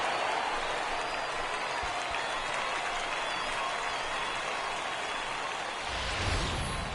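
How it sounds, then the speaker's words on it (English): A home baseball crowd in the bottom of the eighth cheers and applauds after a two-run homer to center, a sustained roaring wash of clapping and shouting heard from the stands with no clear speech. "the home crowd has really come to life here in the bottom of the 8th"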